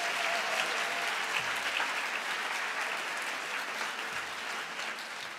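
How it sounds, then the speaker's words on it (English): A graduation ceremony audience applauds the students' previous teachers with sustained, dense clapping from a large hall crowd, steady and full throughout, easing slightly toward the end. "So give them a round of applause."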